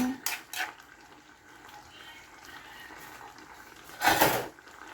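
Lid set over a pan of frying potatoes and carrots for chicken asado, with a few metallic clinks at the start and a louder clattering burst near the end over a faint background sizzle.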